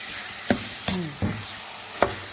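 Minced pork frying in a pan over medium heat for lasagna is stirred in four distinct scraping strokes over a steady close sizzle, with no voices.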